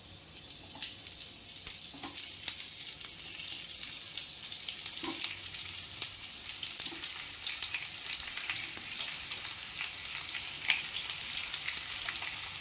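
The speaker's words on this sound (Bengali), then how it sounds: "আর একটু নুন দিয়ে আমি ভাজতে দেবো" Pieces fried in a pan with salt, giving a steady close sizzle throughout with occasional soft stirring clicks and no talk.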